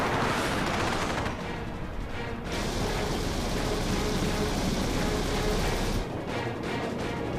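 Dense, rapid .50 calibre heavy machine-gun fire from an air-combat engagement against a MiG rattles continuously in a sustained burst, loud and noisy throughout.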